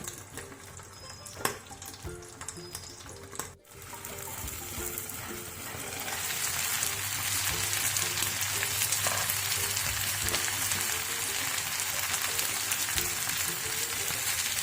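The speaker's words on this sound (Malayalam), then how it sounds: "ഇനി ഇതൊന്ന് മൂടി വെച്ചിട്ട് നമുക്കിത് പൊള്ളിച്ചെടുക്കാം" Sardines coated in green peppercorn paste fry in coconut oil in a covered pan, a few scattered knocks at first, then a loud, continuous sizzle that swells and holds steady.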